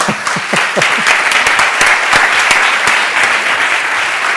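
An audience at a tech conference event applauds a speaker coming up to the stage, a loud, dense burst of clapping that starts with a few distinct claps and then holds steady throughout.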